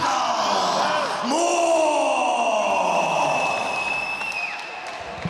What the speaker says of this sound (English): It's nice to see the crowd showing their appreciation.